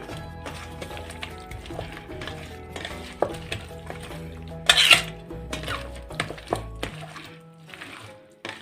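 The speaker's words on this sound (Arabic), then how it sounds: "هقلب الفراخ قوي بالتتبيله دي" Chicken is stirred vigorously in a spiced marinade in a metal pot, with repeated scraping and clanking of a utensil against the pot, irregular and close, including a few sharper knocks.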